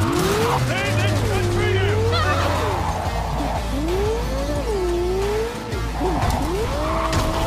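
A Bugatti races hard through Cyberpunk 2077, its loud engine roaring and rising in pitch as tires squeal through turns, with a voice talking over the driving throughout.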